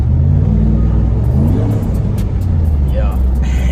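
A Ford F-150 with a 5.0 V8 and a muffler delete idles and revs in a deep, loud low-end rumble that swells briefly, with a voice speaking over the engine.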